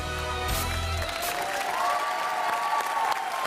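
A studio audience applauds with a brief burst of clapping that fades quickly and gives way to music and other show sounds.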